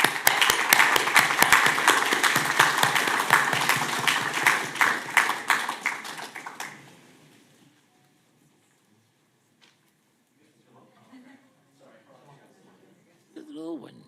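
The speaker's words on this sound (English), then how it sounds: "So please join me in a round of applause for them." A room at a Boynton Beach city commission meeting breaks into a round of applause, dense clapping that fades out after several seconds into near silence, followed by faint voices and brief talk.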